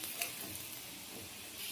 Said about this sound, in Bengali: এদিকে আলু আর এদিকে ডিম ভেজে নেবো।